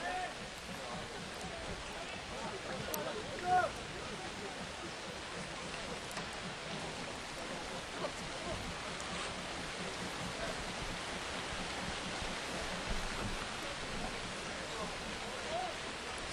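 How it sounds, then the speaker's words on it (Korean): Steady, dense hiss of heavy rain pouring down during a youth football match, continuous and even throughout, with no distinct drops standing out. "참 빗소리가"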